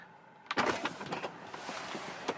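Someone gets out of a Tesla, with a sharp door-release thump followed by a few soft clunks and shuffling movement, close by and otherwise quiet.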